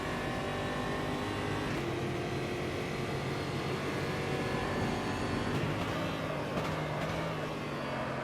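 Stock V8 Championship race car at Campo Grande in a sim racing game, its throaty V8 burbling and holding a steady loud drone under load, with slight shifts in pitch and no one talking.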